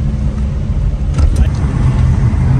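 A jeep engine labours in gear up a steep mountain road near Shogran, a steady loud low rumble with brief rattles and knocks midway, no voices.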